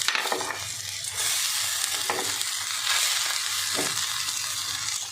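Water spinach goes into a hot pan of frying potatoes and chickpeas with spices, giving a loud continuous sizzle over scraping, stirring strokes, alone with no talk.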